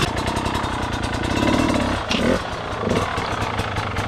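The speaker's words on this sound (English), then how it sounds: "Ben says it's possible to ride through this, so Jeff has a try" A hard enduro motorcycle engine labours over an obstacle on a trail, its loud, rough, buzzing note rising and dipping as the throttle is worked, with a brief surge and a short lull midway.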